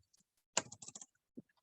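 Typing on a computer keyboard, with a quick close run of several key taps followed by a single lone tap in an otherwise quiet room.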